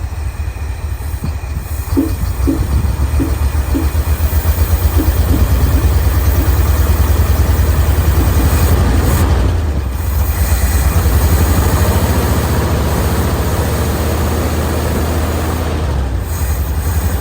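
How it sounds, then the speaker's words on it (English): An old International Harvester Loadstar truck engine, long parked, idles steadily and loud for the whole stretch, with a low rumbling drone and a few faint irregular pops near the start. "Backfiring slightly. It's a stumble whenever it does it."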